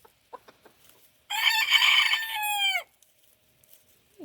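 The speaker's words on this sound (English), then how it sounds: "Hey, chickens." A chicken in a garden gives one loud crowing call of about a second and a half, with a few soft clucks and scratchy noises before and after in quiet surroundings.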